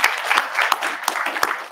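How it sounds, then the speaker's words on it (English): A public forum audience breaks into applause, a steady wash of many hands clapping with a few sharper individual claps standing out, fairly close and continuous throughout. "let's give them a big round of applause again for the amazing work"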